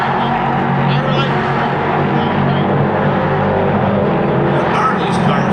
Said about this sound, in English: Are these cars that make this kind of noise?